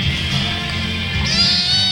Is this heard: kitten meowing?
yes